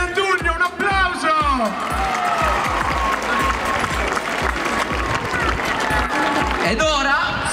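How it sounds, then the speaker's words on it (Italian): Crowd applauding and cheering at the unveiling of the first crochet tree in Melendugno, with loud, dense clapping and whoops filling the space while voices call out over it throughout. "diamo il benvenuto al primo albero all'uncinetto di Melendugno, un applauso!"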